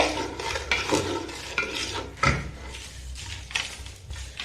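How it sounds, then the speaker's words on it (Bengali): Palm fruit kheer stirred in a pot over gentle heat: a spoon scrapes steadily around the pot in soft, continuous strokes, with light knocks against the sides, close by. "নেড়ে রাখতে হবে, নইলে নিচে লেগে গেলে ভালো লাগবে না খেতে।"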